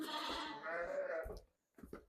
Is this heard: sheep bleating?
yes